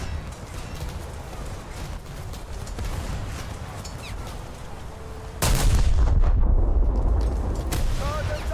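In a naval video game, the battleship Scharnhorst fires its main guns: one heavy, booming blast erupts midway and lingers over the rumbling battle noise that came before.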